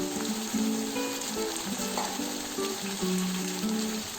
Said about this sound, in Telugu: ఇప్పుడు మనము టొమాటో ముక్కలు వేసుకున్నాము